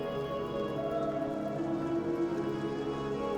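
Hail hits a rooftop as heard from indoors in the video game Book of Hours, a muffled, continuous drumming that stays even and moderately loud with no talk.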